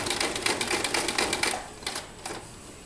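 A sewing machine back-stitching a t-shirt dress: a quick, rhythmic run of needle clatter for about a second and a half, then a couple of short separate stitching bursts, close and without talk.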